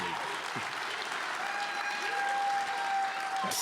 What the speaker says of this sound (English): please give a gracious and rousing applause of thanks to these individuals